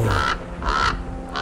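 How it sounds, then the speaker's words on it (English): A crow gives three harsh caws, evenly spaced and fairly close, over a low background hum. "The birds of darkness, crow,"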